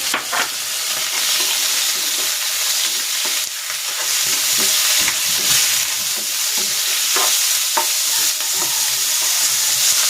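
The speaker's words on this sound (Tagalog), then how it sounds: "Igigisa ko na rin tong pork" Pork sautéing in a pan with onion: a continuous bright sizzle, close and fairly loud, broken by scattered scraping clicks of stirring, with no voices.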